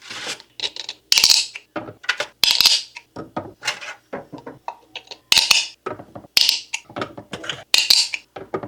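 Egg cooker racks loaded with eggs are stacked layer on layer, producing a busy run of light clicks, clacks and scraping knocks of hard parts meeting, close and distinct.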